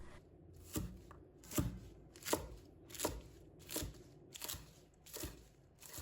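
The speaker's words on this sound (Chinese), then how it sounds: "先把蒜白拍一拍，把蒜香味拍出来，再把它切成小段" Crushed garlic sprout stalks sliced into short lengths with a kitchen knife on a board for a pork belly dish, a steady run of about eight crisp, close chopping strokes at an even rhythm.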